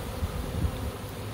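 Honeybee swarm buzzing steadily, a dense low hum from many bees close by, continuous and even across a brief moment with no voices.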